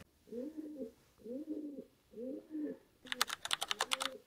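A pigeon nesting under a roof coos very close by in three soft, evenly spaced phrases, then a burst of rapid keyboard-like tapping mixes with a fourth coo.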